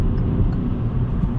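A 2021 Kia Rio 1.0 T-GDI mild-hybrid with a manual gearbox accelerates in third gear, a steady low engine and road drone heard from inside the cabin.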